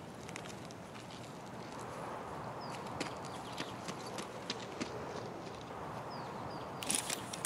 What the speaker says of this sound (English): One set of footsteps.